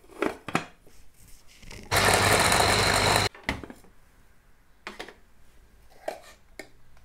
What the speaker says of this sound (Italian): Quindi andiamo a frullare leggermente in modo da avere più una crema spalmabile.